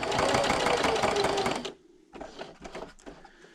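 A sewing machine stitches toward the corner of a patriotic pocket placemat, a fast, steady mechanical chatter for about a second and a half that stops abruptly, followed by a few short, quieter bursts of stitching.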